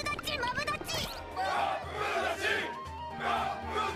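Anime characters from Reincarnated as a Slime cheering together in an episode, excited crowd shouts rising in two loud bursts after high-pitched voices at the start.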